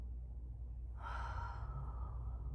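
Soft breathing from someone moving through a yoga cat-cow flow on a mat during a lower-body and core session, a steady airy breath swelling into a clearer exhale-like rush partway through over low background hum.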